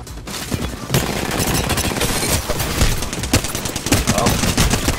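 A Flatline rifle on semi-auto fires in a video game gunfight: rapid, irregular single shots cracking loud and close, with other gunfire and battle noise mixed in.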